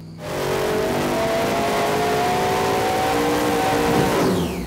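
A Grave Digger monster truck engine of about 1,500 horsepower on a dyno during a test pull, a loud, steady roar that climbs in pitch as it revs, close and with no voices.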